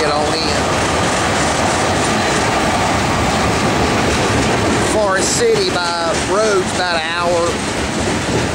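Freight train, a CSX manifest led by UP AC45 and SD70 locomotives, rumbling past steadily and loud throughout, with someone talking over it in the second half.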